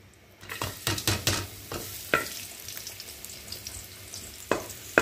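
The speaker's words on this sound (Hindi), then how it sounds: "थोड़ा सा पहले ऑयल डालना है, इसमें लहसुन को थोड़ा सा करना है" Garlic sizzling in hot oil in a pan, with bursts of frying crackle and stirring scrapes rising and falling over a steady sizzle, close and moderately loud, no talking.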